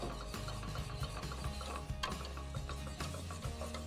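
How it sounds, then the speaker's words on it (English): A whisk beats milk into a lumpy Indian curry sauce seasoned with garam masala, a steady rapid clicking and scraping against the pan, close and continuous, with no talking. "So now add a little bit more milk, and we'll whisk those out."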